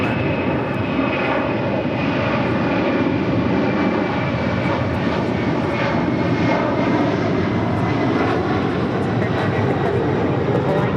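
A Cathay Pacific Boeing 777-300ER jet departs LAX, its engines roaring loudly and steadily throughout with a dense broadband rumble and hiss, while faint voices are heard beneath.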